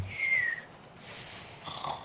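A person snoring at night in an office with bunks, a soft breathy snore with a thin whistling note on the first exhale, quiet and close, followed by a fainter second breath.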